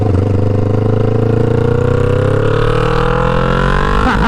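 A 2009 Kawasaki Ninja 500 EX500 motorcycle engine revving up, a loud, close parallel-twin drone rising steadily in pitch over several seconds under hard throttle.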